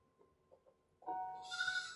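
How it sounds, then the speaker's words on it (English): A goat bleats once, a loud, wavering, drawn-out cry that follows a second of faint background noise and lasts to the end; no one speaks. "Oh, it's a goat."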